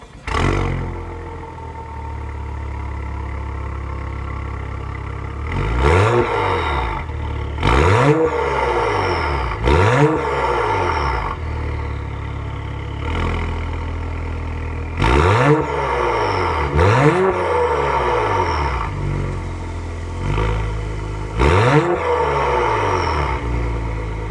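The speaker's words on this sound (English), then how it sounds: "start it up so you can hear that twin scroll turbocharged exhaust note" A 2023 Acura TLX Type S twin-scroll turbocharged engine idles, then revs sharply several times in bursts, each rev rising and falling with a throaty exhaust roar.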